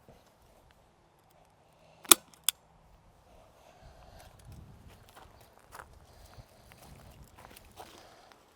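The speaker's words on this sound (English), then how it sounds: "I'm just going to basically hold it against the raised bed and staple it" Two sharp, loud staple-gun shots close together fasten chicken wire to the side of a raised garden bed, followed by quieter rustling and handling of the wire.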